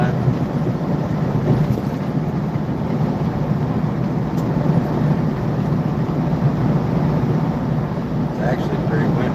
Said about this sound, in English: It's actually pretty windy.